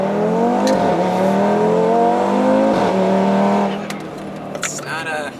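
A blown Audi RS3 pulls hard on the road under boost, its engine note climbing loud and steady in repeated gear pulls, heard close from inside the car before easing off near the end.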